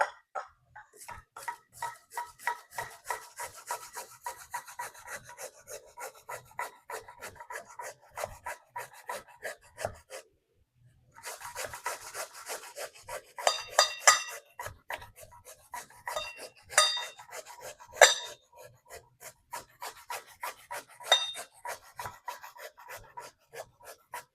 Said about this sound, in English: it's going to be our carrot. I have this grinder right here, and I prefer it on this side.